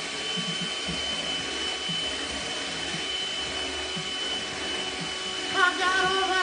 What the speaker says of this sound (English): I'm gonna turn the speed up on the mixer a little bit.